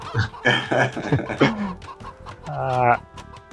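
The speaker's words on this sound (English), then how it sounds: "This is like the stock chicken sound, actually." A series of clucks and squawks from a stock video-game chicken sound, several short bursts and a longer drawn-out call, close and clear.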